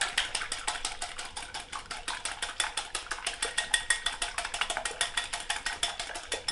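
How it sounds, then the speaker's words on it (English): A whisk beats eggs in a bowl for chili and cornbread batter, a fast, steady run of close, crisp clicking taps with no talk. "We're just going to whisk those up."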